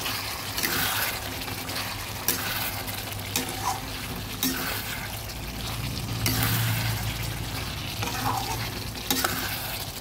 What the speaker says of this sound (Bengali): এবার ভালোভাবে নেড়ে দিচ্ছি